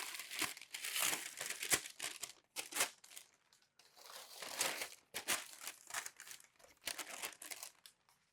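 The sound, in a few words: packing paper being crumpled and unwrapped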